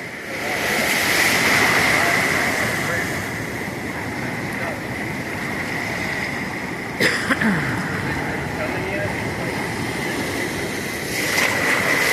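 Ocean surf washes onto a beach around a stranded whale, a steady broad roar of water with wind, one sharp knock partway through and a voice faint beneath.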